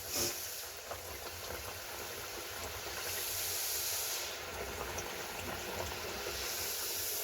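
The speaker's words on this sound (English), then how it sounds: "So you want to add the puri in carefully and it will start to really nicely fry" Puri frying in hot oil while held down under the surface, a steady broad hiss and bubbling sizzle that runs on without a break and swells slightly midway.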